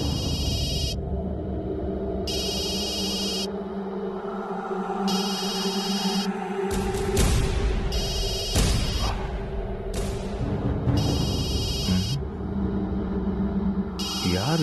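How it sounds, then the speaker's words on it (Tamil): A telephone rings in a TV drama, sounding in regular on-off bursts about a second apart over a continuous rumbling background with music-like tones. "யார் இந்த நேரத்தில் நமக்கு ஃபோன் பண்றது?"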